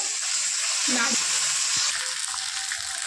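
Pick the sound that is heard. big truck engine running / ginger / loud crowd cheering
ginger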